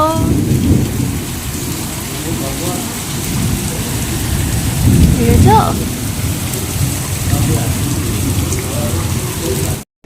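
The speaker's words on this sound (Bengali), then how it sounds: "দেখো কি বৃষ্টি হচ্ছে আর কি বিদ্যুৎ চমকাচ্ছে, হঠাৎ করে বৃষ্টি এলো" Heavy rain pours steadily on a surface close by, with a long rumble of thunder swelling midway through the downpour; no voices.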